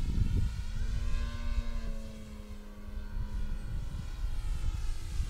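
A Techone Hobby Air Titan RC airplane flies overhead with its electric motor whining steadily, the propeller pitch sliding downward as it passes, while wind buffets the microphone throughout.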